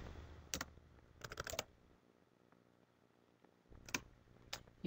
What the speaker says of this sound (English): So we could just type that in.